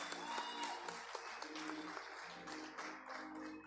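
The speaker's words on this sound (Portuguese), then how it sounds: "Pode aplaudir a Jesus" A church congregation at a conference applauds together, dense clapping filling the room for a few seconds with a sustained tone and scattered voices blended underneath.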